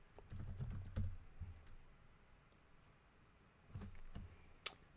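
Bursts of typing on a computer keyboard, quick clusters of key clicks separated by a pause, fairly quiet and close, no speech.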